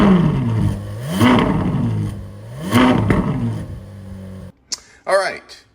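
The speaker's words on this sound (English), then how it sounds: "cold start on the 458" A Ferrari 458 cold-starts nearby, a loud engine surging twice in rising revs and then settling to a high idle before cutting off, followed by a few brief sounds.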